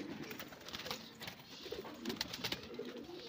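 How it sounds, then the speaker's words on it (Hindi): Pigeons cooing among a flock of Kasuri and high-flyer pigeons kept for sale in Punjab, soft repeated low coos with scattered fluttering and chirps, steady and close. "बड़े बड़े अच्छे कबूतर हैं भाई बीच में।"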